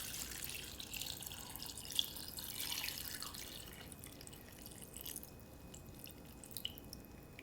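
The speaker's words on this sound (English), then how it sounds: "So I just fill up this entire container of water and give them a bath." Water running into a container to soak orchids, a soft steady pour with faint drips and splashes, quiet and close, no talking.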